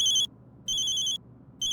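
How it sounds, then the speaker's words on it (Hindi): A phone rings with a bright electronic tone in three evenly spaced bursts, loud and close, with quiet gaps between and no voices. "हमारी धर्मपत्नी राधा रानी का फोन है, उठा लें।"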